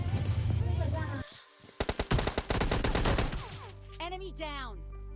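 PUBG Mobile Lite gunfire from a shotgun and an M4: a rapid, loud burst of automatic shots close by, then a ringing, whining tail as the fight sound fades out.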